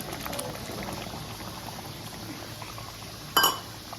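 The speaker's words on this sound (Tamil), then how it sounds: "பாருங்க, நல்லா கொதிக்குதா?" Tamil kolambu curry with coconut and tamarind bubbling in a pan, a steady close simmering hiss with a brief clink near the end.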